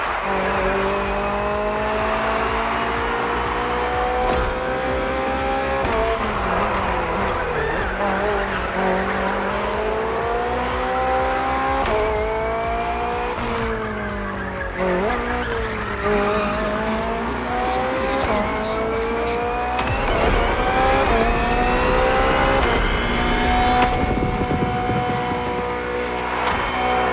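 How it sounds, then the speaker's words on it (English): BMW hybrid V8 race car in The Crew Motorfest video game, its engine revving hard and climbing through repeated gear shifts, with tire squeal over a continuous loud drone. "The hybrid V8 will do the"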